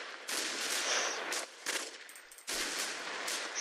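Rapid, sustained gunfire from a battle in the video game Conquerors 3, broadband bursts firing almost continuously with two brief gaps, loud and close with no talk.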